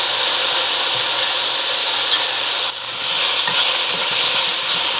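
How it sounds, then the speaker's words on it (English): Vegetables sizzle in a pan with a bright, steady hiss throughout, near and loud, with a brief dip partway as the contents shift; no voices. "And we will let this cook until the vegetables are tender."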